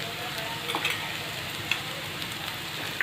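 Spices sizzle and fry in a hot pan for paneer bhurji (turmeric, garam masala, coriander powder and red chilli powder) while a spoon stirs them, giving a steady crackle with a few soft scrapes and clicks.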